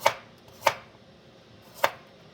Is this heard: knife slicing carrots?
yes